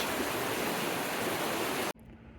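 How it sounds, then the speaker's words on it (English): 15 Mile Creek flows through the town of Dufur, Oregon, as a steady close rushing of water for about two seconds, then cuts off abruptly to quiet background hum. "Dufur has a very nice creek running through it."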